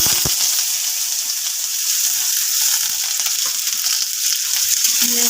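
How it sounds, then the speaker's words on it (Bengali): Chopped onion fries in a pan of oil with nigella seeds and halved green chillies, giving a continuous close sizzle with light stirring throughout. "পেঁয়াজটা একটু ভাজা ভাজা করে নেবো।"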